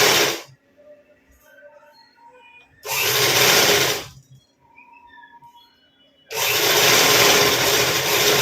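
A sewing machine stitching a high-neck blouse runs in three loud whirring bursts, with quiet talking in the pauses between them.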